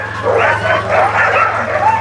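A husky sled dog team yips, whines and barks excitedly together in a continuous loud chorus close by, with a steady low hum underneath.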